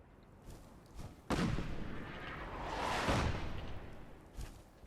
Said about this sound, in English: One of my cannons was still reloading, but the other one was not. So it's shot.